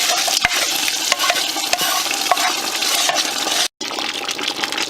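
Ogbono being stirred into meat at a rolling boil in a frying pan while cooking ogbono soup, a steady loud sizzling bubble with scattered clicks and scrapes, briefly cut off near the end.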